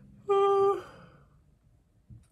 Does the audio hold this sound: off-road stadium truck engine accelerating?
no